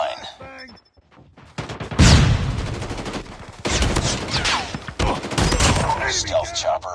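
Shotgun blasts in a ranked Call of Duty match, loud booming shots and rapid gunfire stacked close together, mixed with game announcer callouts and in-game voices.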